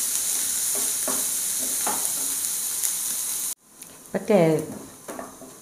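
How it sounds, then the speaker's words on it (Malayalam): Onions and curry leaves fry in a pan with a steady sizzle and a few stirring clinks, then the sizzle cuts off abruptly and a voice speaks over the quieter pan. "അതിൽ കരിവേപ്പിൻ്റെ ഇല ഇട്ട് കൊടുക്കാം. ഇതൊന്ന് നല്ലപോലെ ഒന്ന് വഴറ്റിയെടുക്കട്ടെ."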